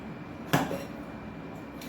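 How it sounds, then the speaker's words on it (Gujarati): A metal frying pan is set down on a stove with a single sharp clank midway, briefly ringing before fading into quiet room noise. "તાસું મૂકી દીધું છે મેં."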